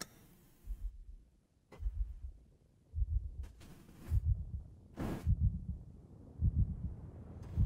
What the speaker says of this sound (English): Heartbeat at the start, nice touch.